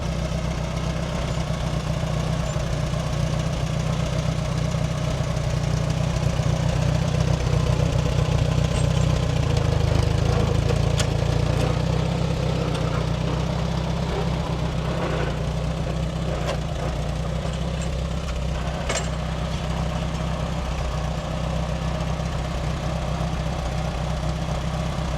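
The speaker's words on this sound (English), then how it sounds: "so we just gonna get the tractor" A tractor engine idles and runs steadily throughout, a low continuous rumble with occasional faint clanks, close by and loud.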